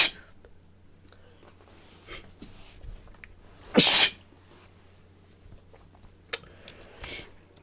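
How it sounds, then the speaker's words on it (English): One loud, close sneeze bursting out in the middle, surrounded by quiet breaths and small mouth noises. "My sneezing is just getting uncontrollable."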